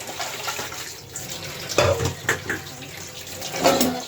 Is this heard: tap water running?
yes